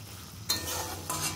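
Potatoes frying in mustard oil are stirred in a pan, two short bursts of sizzle and scraping over a quiet low hum, close and faint, with no talking.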